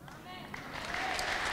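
A church congregation breaks into applause during a sermon, clapping rising from scattered claps to a fuller, sustained round with voices mixed in.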